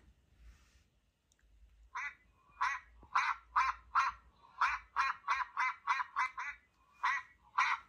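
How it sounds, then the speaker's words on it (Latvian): A duck quacks in a quick series of loud, close calls, some spaced and some in rapid bunches, after a short quiet start. "Pīlēns izpleš spārnus un pēkšņi pēk, pēk, pēk."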